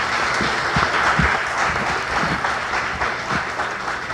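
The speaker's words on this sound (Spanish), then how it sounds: "le pido a todos los anepistas que están aquí que aplaudan" Continuous applause from an audience at an international meeting on water alternatives, a dense, even wash of clapping that holds steady at close range for several seconds.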